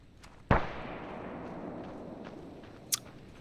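A single sharp gunshot in the Arma 3 video game rings out with a long decaying echo, followed a few seconds later by a second, fainter distant shot.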